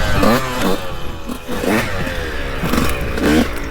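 A 2002 CR125 dirt bike on a trail revs up and down repeatedly, its engine note rising and falling in several close, loud bursts with a rattly, buzzing edge throughout.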